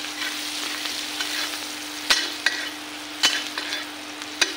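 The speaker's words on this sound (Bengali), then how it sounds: "কেটে রাখা পেঁয়াজ, পরিমাণে হলুদ দেবো, একটু লবণ, যাতে পেঁয়াজটা জলদি ভাজি হয়ে যায়" Chopped onion fries with turmeric and salt in oil, a soft steady sizzle broken by a few sharp spoon scrapes against the pan, close by.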